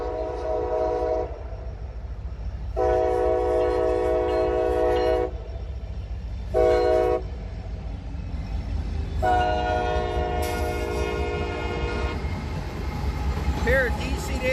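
A Norfolk Southern freight train pulled by DC-to-AC rebuilt locomotives sounds its horn in several long blasts while its engines rumble steadily underneath. The horn pattern includes a brief short toot.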